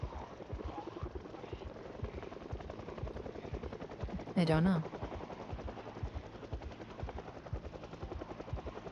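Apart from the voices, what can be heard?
helicopter flying overhead in video game Project Zomboid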